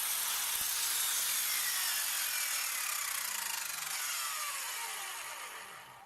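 An Evolution R210 CMS miter saw cuts wood, a loud, high-pitched whine of the running motor and blade that holds steady, then slowly winds down and fades over the last second or two.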